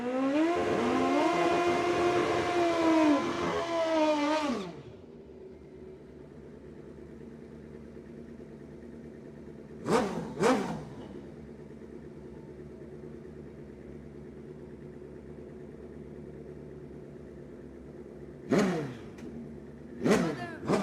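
A yellow Kawasaki drag-racing motorcycle at Cordova Dragway screams through a loud, rising rev run for about four seconds, then drops to a low distant idle broken by a few short, sharp throttle blips.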